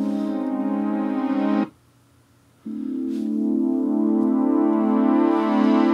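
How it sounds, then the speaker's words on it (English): Moog One synthesizer pad: a sustained, warm chord held loud and steady, briefly cutting out before swelling back in and continuing alone. "The very first thing to go down was the Moog 1 pad. Sounds like this."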